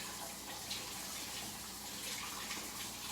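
Water runs from a kitchen tap over scallions being rinsed, a steady close gushing hiss that continues without a break.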